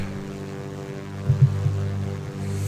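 Small propeller aircraft in X-Plane 10 droning steadily at full power through rotation and climb-out after takeoff, a low throbbing hum with a few brief thumps, close and continuous.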